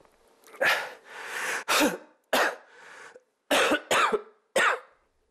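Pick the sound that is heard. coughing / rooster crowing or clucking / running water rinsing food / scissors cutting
coughing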